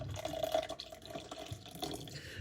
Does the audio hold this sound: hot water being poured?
yes